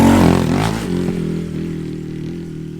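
Honda Monkey motorcycle with 14-36 gearing labours off road up a hill, its engine loud and close, straining with a steady droning hum.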